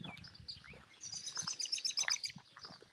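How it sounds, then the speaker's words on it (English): Birds outdoors on a Sunday morning near a rural cemetery, a burst of quick high chirps and tweets in the second half, fairly close, over faint low rumbling. "Plenty of birds."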